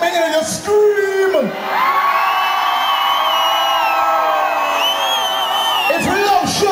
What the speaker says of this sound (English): If you love reggae music, let me hear you scream.